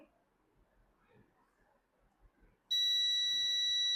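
A digital multimeter in continuity test mode, checking a resistance of around 27 ohms, gives a steady, piercing electronic beep that starts suddenly and holds loud and unbroken after a stretch of faint background noise.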